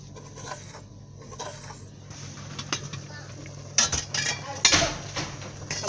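A utensil beats and scrapes against a pot holding smooth native white soup mixture, with irregular clinks and knocks growing louder toward the end, close and fairly quiet.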